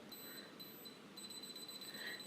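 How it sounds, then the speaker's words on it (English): Steady high-pitched electronic beeps repeating in quick rhythm, faint and thin, over a low background hiss, continuing throughout. "Timer is set. Pick up the jug. Starts beeping."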